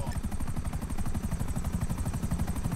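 Helicopter in GTA V, a loud, close rotor thumping in a fast steady pulse with engine whine, continuous and alone without talk.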